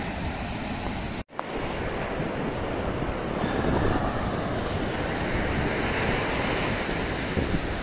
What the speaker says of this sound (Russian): вот эта каменная гряда отбивает волны